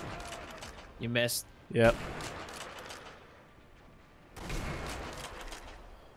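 Two sharp, loud sniper rifle shots from Sniper Elite V2, fired about a second apart, each a short cracking report, with players talking over a quieter game background.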